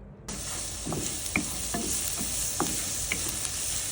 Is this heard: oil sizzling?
yes